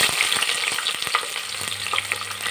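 Whole spices, cashews and chopped onion sizzle in hot oil for mushroom biryani, a steady close crackle broken by scraping stirs, with no voices.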